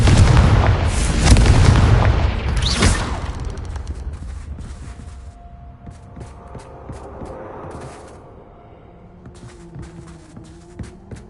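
A Confringo blasting spell explodes in the Hogwarts Legacy video game, a heavy, booming blast that rolls out into a long fading rumble, followed by quieter scattered pops and ambient game sounds.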